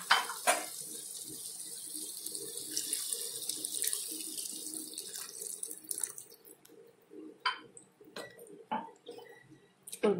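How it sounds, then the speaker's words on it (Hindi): Water poured from a tap-like stream into a pan of dhaba-style tomato and sev curry, a steady splashing run with clinks of a pot and utensils near the end, fairly close and without talk. "अब हम इसमें थोड़ा सा पानी ऐड करेंगे"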